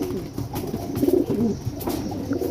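Pigeons coo in a coop housing young birds, soft throaty rolling calls repeating close by over a low background murmur.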